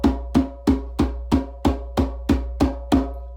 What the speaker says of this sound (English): So a fast beat would sound like this